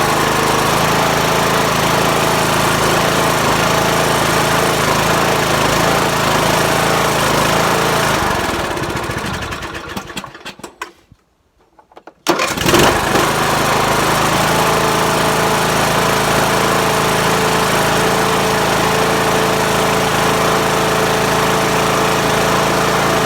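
A riding lawn mower engine with modified electric wiring drones loudly and steadily, then cuts out into near silence for about two seconds and restarts easily, resuming a steady running roar.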